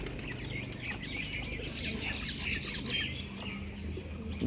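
Released domestic pigeons (kaldom, bihari, lalkath and rampuri breeds) flutter and flap their wings nearby, with soft chirps and a faint outdoor background throughout.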